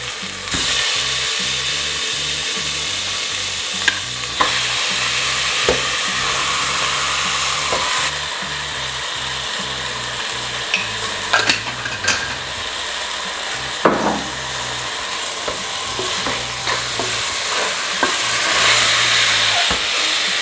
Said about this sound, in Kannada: ಮಟನ್ ಹಾಕ್ಕೊಂಡು ಫಸ್ಟು ಚೆನ್ನಾಗಿ ಫ್ರೈ ಮಾಡ್ಕೊತೀನಿ